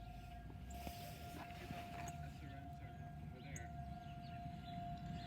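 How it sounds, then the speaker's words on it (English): Civil defense tornado siren test in Grosse Pointe, Michigan, a steady sustained wail heard from a distance over outdoor ambience and low traffic-like rumble, continuous for the whole stretch. "Yeah, the siren is still going off right now."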